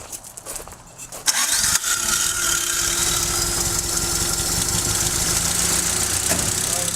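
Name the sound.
Toyota 4age engine starting and idling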